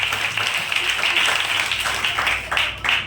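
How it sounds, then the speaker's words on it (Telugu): Congregation clapping together for Mother Mary's birthday, a dense steady patter of many hands lasting the whole stretch with a few louder surges, some voices mixed in. "అందరూ ఒకసారి చప్పట్లు పెట్టి మరీ తల్లికి జన్మదిన శుభాకాంక్షలు పెడితే"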